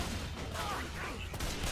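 Gunfire in Left 4 Dead 2 as a zombie horde crowds one room, a dense steady clatter of shots with no clear gaps between them.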